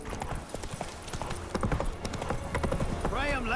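A horse's hooves clip-clop at a steady walking rhythm in the video game The Witcher 3, heard under a voice, with a short whinny near the end.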